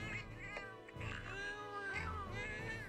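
Several cartoonish cat meows from the video game Monster Hunter 4 overlap one another, high and sing-song, in a busy cluster of mewing voices.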